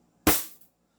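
A single sharp shot from a tuned King Arms M4A1 airsoft rifle with a trigger job, firing around 470 FPS: one loud, close crack with a short decaying tail, alone without talk.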